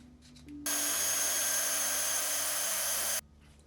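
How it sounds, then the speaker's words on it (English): A drill with P60 grit sandpaper attached spins up with a sudden loud, steady whirring hiss of abrasive sanding for about three seconds, then cuts off abruptly. "attach it to my drill, and I'm using P60 grit sandpaper"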